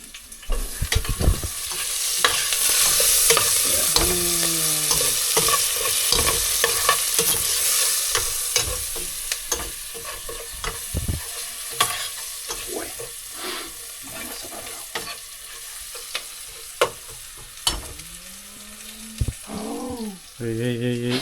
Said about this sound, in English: Let the onion cook a little bit.